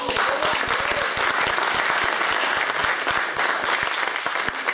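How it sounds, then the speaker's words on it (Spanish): Congregation at an evangelical church service applauding loudly and steadily throughout, a dense sustained roar of clapping. "denle un fuerte aplauso al Señor"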